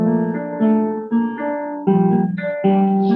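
A simple piano melody of single sustained notes struck one after another in a slow, even pattern, close and clear, with no talking.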